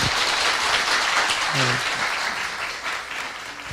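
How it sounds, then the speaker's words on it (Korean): An audience applauds forest service officials for fighting the wildfire in Goseong County, Gangwon Province: a steady, dense wash of clapping that holds evenly at full strength before tapering slightly toward the end. "박수를 쳐주셔야 돼요"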